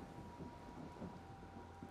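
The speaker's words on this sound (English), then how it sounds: "That's where I want to be. Outside in the rain, not in here." Steady rain falls outside with a low rumble of distant thunder in the Kraven Manor video game, faint and continuous with no speech.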